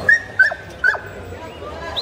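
A German Shepherd at a Friday dog market gives three short, sharp yips and whimpers about half a second apart, close and clear. A murmur of voices and low crowd noise runs underneath.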